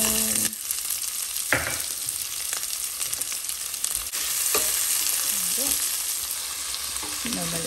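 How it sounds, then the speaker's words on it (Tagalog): Onion fries in a pan with a steady, close sizzle, broken by occasional scrapes and stirring knocks and a few faint squeaky tones. "Add your onion."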